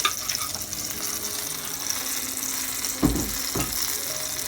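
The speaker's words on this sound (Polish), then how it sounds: "smażymy na rumiano z obu stron" Steady close-up sizzling of buttermilk pancakes with blueberries frying in a pan, with a couple of soft clunks partway through.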